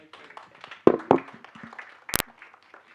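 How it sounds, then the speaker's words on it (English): A few scattered claps and taps sound at an end-of-year cocktail meet and greet, sparse and close, with a sharp louder clap near the end over quiet room murmur. "Once again, let us give a round of applause as we hand over the gift"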